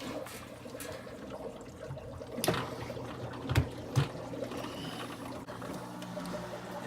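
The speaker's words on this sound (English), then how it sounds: "And you'll hear that noise. So right now water's pushing through." A SUNSUN 304B aquarium canister filter runs as water pushes through it, a continuous gurgling, trickling rush with a few louder knocks and sloshes partway through.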